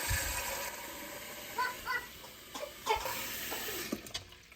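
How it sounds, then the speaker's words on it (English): Water running from a tap into a pressure cooker holding jars of potatoes for canning, a quiet steady splash with a few louder gurgling bursts and clinks. "Now we're gonna fill this thing up with water,"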